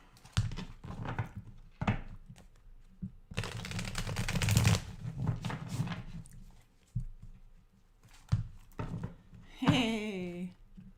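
Tarot cards being shuffled in a quick riffling burst lasting a second or two, with scattered soft taps and a voice speaking before and after.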